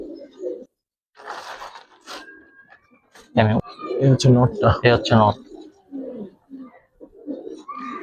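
Pigeons coo softly in a loft housing Giribaz, Pangkhi, Kagji and coloured breeds, including a stone-eyed male, mostly beneath someone talking close by.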